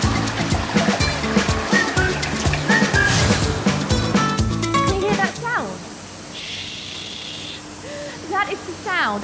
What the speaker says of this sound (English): That is the sound of jets of air blasting water off the apple half.